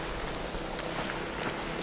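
Rain in the video game ARC Raiders, a steady hiss of drops pattering on surfaces, continuous and fairly close, with no voices.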